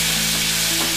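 Ginger garlic paste and turmeric are stirred in a hot pan of oil with onion seeds, giving a steady, close sizzle of frying with a scraping stir through it.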